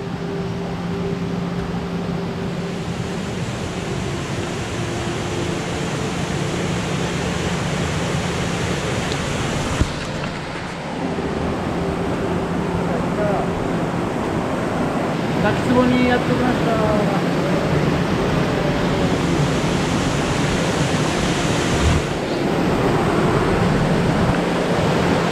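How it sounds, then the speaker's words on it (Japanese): A waterfall on Ishigaki Island roars steadily into its plunge pool, a loud, unbroken broadband rush close by, with faint voices occasionally audible beneath the water. "滝壺にやってきました。"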